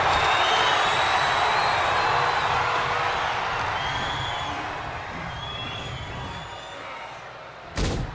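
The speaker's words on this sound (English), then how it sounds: "You can hear this capacity crowd just booing as a big boot to the face." A capacity crowd at a digital wrestling promotion event roars as a continuous dense wash of voices. The noise is loud at first and eases slightly over time, and one sharp slam lands near the end.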